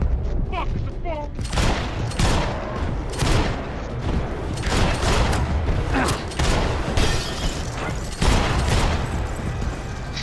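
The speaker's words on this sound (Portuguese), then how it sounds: "Foi mais que 5 tiros." Gunfire in the Max Payne 3 video game: a rapid fusillade of loud, close shots in repeated bursts with sharp cracks and glass-like shatters, voices faintly under it.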